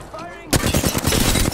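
Video game gunfire: a rapid burst of automatic shots hammers out loud and close in a fast rhythmic stream, right after a short stretch of voice and music.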